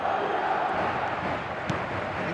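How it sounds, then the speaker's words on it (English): Stadium crowd noise from an eFootball match, a steady broad roar of many voices and chanting that holds at an even level throughout, with no speech over it. "This crowd doesn't do ordinary, and we should be in for something very special."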